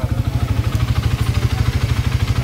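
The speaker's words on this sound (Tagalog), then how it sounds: "Malangis yung tambutso. Tapos maingay." A noisy, oily-exhaust motorcycle engine idling with a possible piston slap, loud and close with a steady fast rhythmic low thrumming and clattery knocking throughout.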